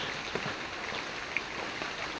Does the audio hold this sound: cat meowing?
no